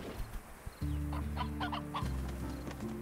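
Chickens in the video game Slime Rancher cluck softly in a short run of quiet clucks over a low, steady game hum, with no speech.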